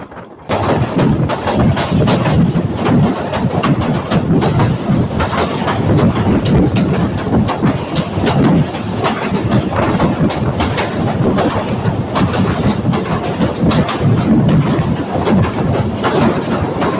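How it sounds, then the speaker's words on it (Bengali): The Tungipara Express rolls past Kumarkhali and Charaikol stations, heard from on board as a loud, unbroken roar of wheels and carriage rattle with a steady rhythmic clatter throughout. "আমাদের টুঙ্গিপাড়া এক্সপ্রেস ট্রেন কিন্তু শাটেলকে রেখে কুমারখালী রেল স্টেশন ছেড়ে যাচ্ছে"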